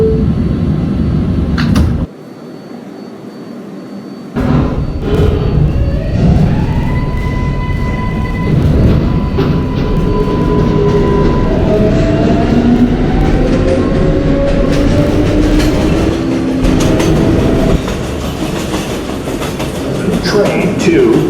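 Roblox game simulation of a Manhattan-bound 7 local subway train running, a loud steady rumble with rising electric motor whine and rhythmic rail clatter, interrupted by a brief quieter gap and overlaid with brief announcer speech.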